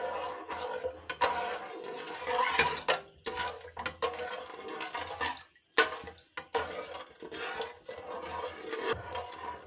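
Sugar syrup and red food colouring being stirred together in a pot for boondi ladoo, with steady scraping, swishing and clinking strokes against the metal that pause briefly now and then.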